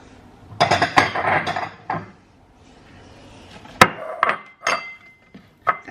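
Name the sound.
grabbing a bowl among dishes while making sushi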